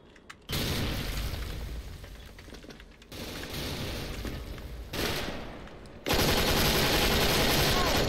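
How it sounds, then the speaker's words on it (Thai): Grenade blast and gunfire in the online shooter Special Force, heard as dense, loud bursts of combat noise that cut in and out in three sustained stretches, with the last stretch the loudest. "เขาปาระเบิดลงมาครับ"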